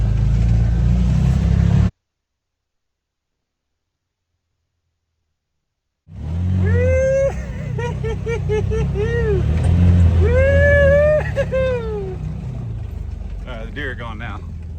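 Engine of a side-by-side utility vehicle on a farm, a loud close motor that cuts out to silence, then returns with revving and shifting pitch under a voice.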